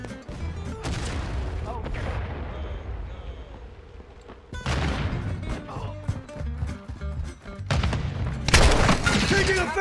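Video game gunfire: loud, dense bursts of rapid shots and heavy impacts, easing off briefly in the middle before a second heavier volley, with voices faintly underneath.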